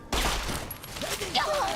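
A short, dense burst of rapid gunfire sounds in a video game, with voices and other game sounds mixed in.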